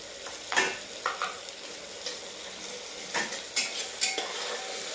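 Onion frying in a pan for biryani, a continuous soft sizzle broken by repeated spatula scrapes and clinks against the pan, close and steady with no voices.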